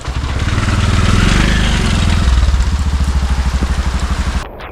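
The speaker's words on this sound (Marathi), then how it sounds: "पावसाने जोर चांगला धरलाय" Heavy monsoon rain gives a dense, loud, steady hiss, with a nearby idling engine thumping in a regular pulse underneath until it stops near the end.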